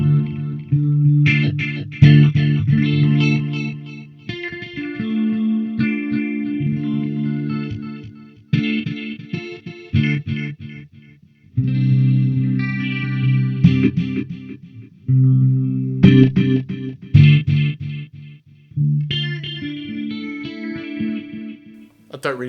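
Electric guitar played through a Zoom 505 effects processor on patch E4, loud effected chords and notes in several separate phrases with short pauses between.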